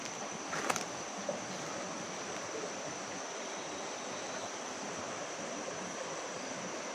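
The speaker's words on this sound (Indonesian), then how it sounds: "Ya, ini sungai." A river flows beside a house with a steady, broad rushing hiss that holds constant throughout, with a couple of faint knocks early on.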